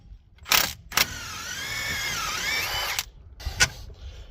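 Power tool whirring up and down while removing bolts at the front wheel of a Kia Sorento during wheel bearing replacement, a sustained rising and falling whine framed by sharp clicks and knocks, close and alone.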